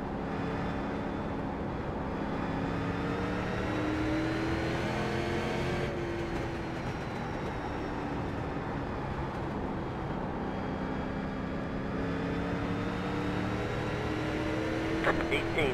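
Race car engines in the iRacing sim during short track oval racing, a steady droning whine that holds throughout with slowly shifting pitch as cars circle the track.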